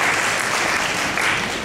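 An audience at a post-screening discussion of a university broadcasting department's graduation film exhibition breaks into sustained, dense applause, many hands clapping evenly in a hall.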